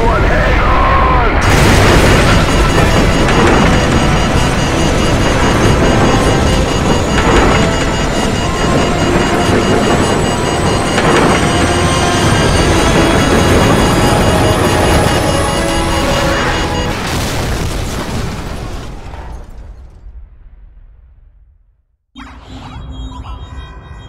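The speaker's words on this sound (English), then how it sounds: "What appears to be an explosion of epic proportions remains sketchy and unconfirmed." A nuclear detonation in Call of Duty Modern Warfare roars as a massive, continuous rumbling blast with crackling debris for nearly twenty seconds, fading to near silence before a quieter aftermath returns.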